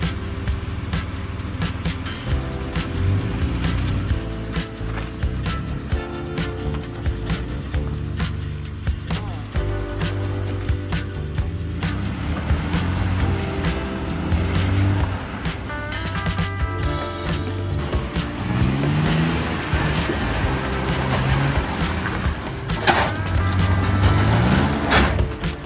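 A 2022 Nissan Frontier pickup truck in off-road mode drives over rough terrain, its engine a steady low rumble with creaks and knocks from the body and suspension throughout, and a few brief, faint voices in the background.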